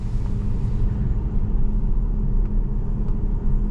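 A 2008 Pontiac Grand Prix GXP with its 5.3 V8 drives along, giving a steady, deep engine drone and road rumble that holds at the same loud level throughout, with no voices.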